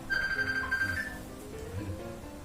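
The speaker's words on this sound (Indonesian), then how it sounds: "Telepon." A phone ringtone chimes with a bright repeating electronic tone for about a second, then fades under quiet room noise.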